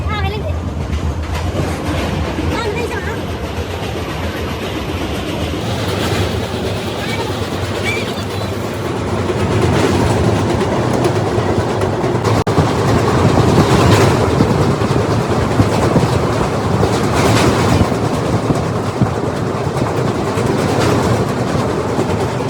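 A passenger train on a tour from Anakapalli to Shirdi rumbles steadily as heard from inside the carriage, with continuous wheel and track noise, faint rattles and some indistinct voices in the background.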